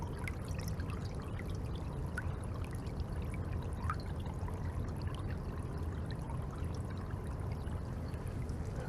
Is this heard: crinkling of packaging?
no